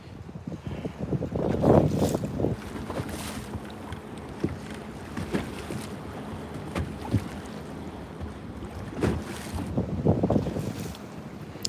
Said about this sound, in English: Can you guys hear the wind at all? Can you hear that wind blowing in?